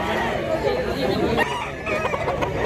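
Roosters crow and hens cluck in a busy Cebu chicken market at Mantalungon, where brass-back and yellow-legged gamefowl are sold; several birds overlap continuously and loudly, with crowd chatter underneath.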